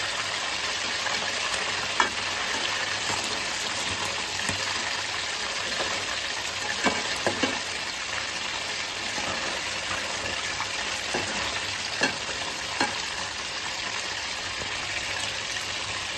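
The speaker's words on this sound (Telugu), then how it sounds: "ఇప్పుడు ముక్కలను మంచిగా అటు ఇటు కలుపుకోవాలి." Fresh korameenu fish pieces for homemade fish pickle fry in a pan and get turned over, a continuous broad loud sizzle with occasional soft clinks and scrapes of stirring throughout, with no talking.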